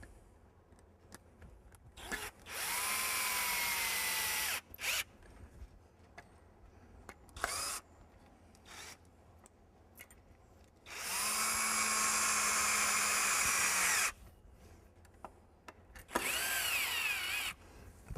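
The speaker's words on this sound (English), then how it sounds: "take your drill and your board that you've taken off." A power drill drives screws through a board back onto a hoop pen frame fitted with welded wire, in three sustained whirring bursts of about two seconds each, with quiet handling clicks and taps between them.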